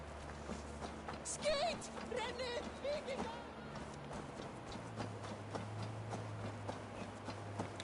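A horse's hooves clop faintly in a steady walking rhythm in the video game Assassin's Creed Valhalla, under quiet game ambience and a few bursts of speech.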